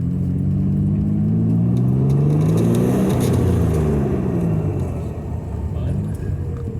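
A Z car engine runs after repair, a loud, close idle with a throbbing rumble that rises into revving swells and then settles back. Someone talks over part of it.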